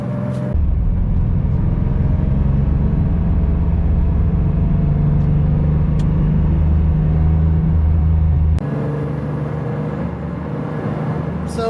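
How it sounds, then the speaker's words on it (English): A Porsche Carrera 3.2 with its rear-mounted engine drones steadily while driving, a loud, continuous low rumble with a whining tone layered over it and a brief shift in pitch near the end. "As you drive it, it does have that engine whine in the back."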